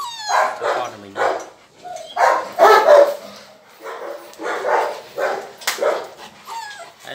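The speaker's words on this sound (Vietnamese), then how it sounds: "Chó con của mình đây." Six-week-old Rottweiler puppies bark and yip repeatedly in short, high-pitched bursts with whimpers between, close by and fairly loud, in an irregular rhythm of overlapping yelps.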